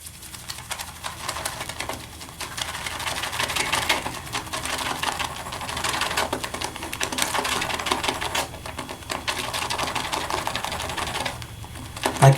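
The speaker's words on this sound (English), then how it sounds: "now I'm going to do the lathering" Brisk, rapid swishing and clicking of a shaving brush whipping vanilla sandalwood shaving soap into lather with warm water in a bowl, a busy continuous churn close up with no talking.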